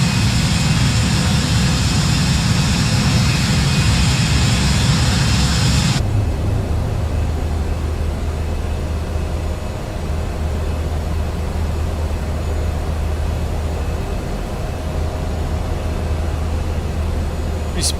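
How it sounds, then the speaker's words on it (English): Engines of an Embraer E175 airliner climbing after takeoff in a flight simulator game, a steady loud broadband roar and hum that drops to a lower, smoother drone partway through, continuous throughout. "It's a nice long takeoff roll. We got a positive rate"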